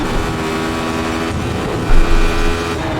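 Radical SR8 race car engine in iRacing at Road Atlanta, a sustained loud buzzing drone with a short surge near the middle, no talk over it.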